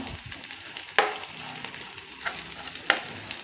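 Dried shrimp roast in a pan with a constant dry sizzle and repeated scraping stirs of a spoon, the strokes coming at an uneven pace with no voices.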